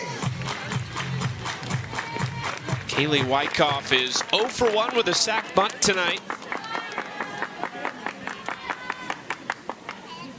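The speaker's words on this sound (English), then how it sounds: "Everybody clap your hands." A softball stadium crowd in Oklahoma City breaks into rhythmic, evenly spaced clapping that grows clearer toward the end, while a commentator talks over it throughout.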